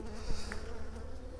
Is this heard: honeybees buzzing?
yes